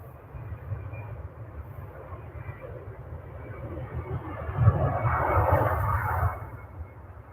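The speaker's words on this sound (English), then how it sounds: "EasyJet leaving for Amsterdam." An EasyJet airliner departing Manchester Airport, heard from outside as a distant, low rumbling jet roar that swells toward the middle and stays steady.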